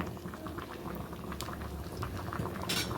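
A pot of avial curry simmering, with a steady low bubbling and small popping blips throughout, quiet and without voices.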